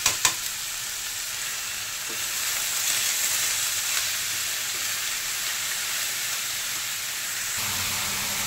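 Chopped, washed and drained bottle gourd goes into hot oil tempered with bay leaf, setting off a steady broadband sizzle and frying hiss with a few stirring knocks early on, close and continuous throughout.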